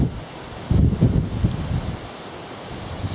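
Wind buffeting a handheld microphone outdoors on a coastal walk at Snettisham, with heavy low rumbling gusts that swell strongly for about a second, then ease into a steady blustery roar.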